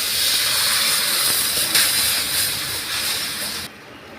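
Water poured over hot turmeric, chili, cumin and gram flour in a pan gives a loud, steady, steamy hiss that carries for several seconds and then cuts off abruptly near the end.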